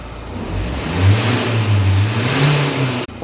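A Renault 1.5 dCi diesel engine with a leaking turbo boost hose revs up hard and holds high, a loud, close roar with a rising low drone, then cuts off abruptly near the end.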